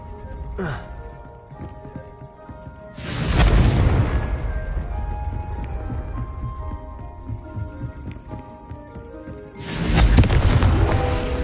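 Confringo fire spell blasts in the Hogwarts Legacy video game: two loud, booming explosions with a rumbling tail, one early and another near the end, plus a short whoosh at the very start over a steady game soundscape.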